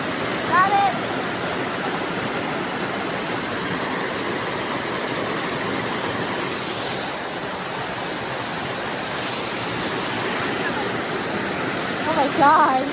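Steady, dense roar of a waterfall at a swimming spot, unbroken from start to finish, with short bursts of voices near the beginning and end.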